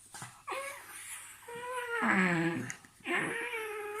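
A pet cat gives drawn-out, wavering vocal moans and growls in a home, three close, loud, tonal outbursts separated by short quiet gaps, rising and falling in pitch.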